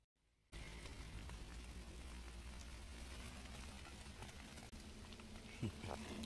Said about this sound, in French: Il recommence à pleuvoir